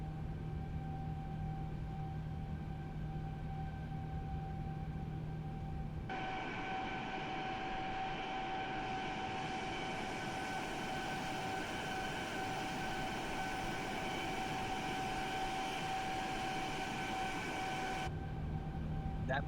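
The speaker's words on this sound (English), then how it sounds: "That plane is loud." An airliner roars loudly in a flight simulator, a steady heavy engine drone that swells and shifts in tone partway through and then settles, with no voices.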